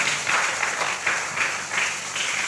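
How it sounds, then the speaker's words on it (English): A church congregation claps in a steady, rhythmic beat, loud and crowded, holding an even pulse without a break. "Give the Lord a clap offering"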